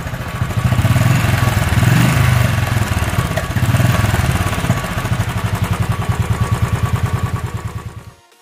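A Royal Enfield Classic 500 Desert Storm single-cylinder engine runs steadily close by, its loud, evenly spaced thump carrying for about eight seconds before it cuts off abruptly at the end.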